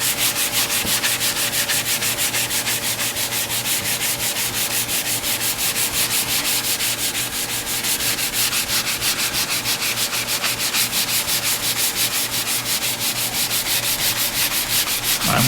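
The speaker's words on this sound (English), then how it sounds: "This is a different kind of sanding sponge, just a little more aggressive." An aggressive sanding sponge rubs back and forth on wood with a shou sugi ban finish in fast, even strokes, a close, continuous scratchy hiss with no talking.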